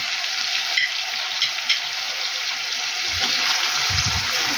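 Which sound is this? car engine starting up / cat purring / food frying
food frying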